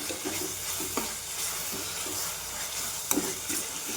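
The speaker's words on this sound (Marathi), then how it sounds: "तर कोथिंबीर टाकून घेते मी, पुन्हा एकदा छान परतून घेते" Rajma masala with coriander sautés in oil in a pan, giving a continuous close sizzle with repeated spatula scrapes and stirring knocks at an uneven rhythm.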